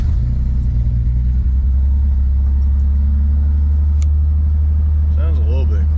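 Nissan 300ZX engine idling with an exhaust leak at the manifold-to-test-pipe joint, a loud, close, steady low rumble with a raspy edge, while someone speaks over it.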